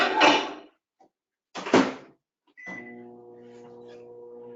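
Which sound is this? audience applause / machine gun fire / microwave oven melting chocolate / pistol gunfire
microwave oven melting chocolate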